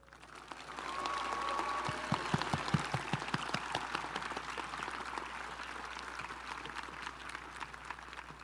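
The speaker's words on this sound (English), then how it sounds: "Please join me in a round of applause" Audience at a high school graduation ceremony applauding, a dense patter of many hands clapping that builds quickly and holds steady, with a few sharp louder claps standing out near the start.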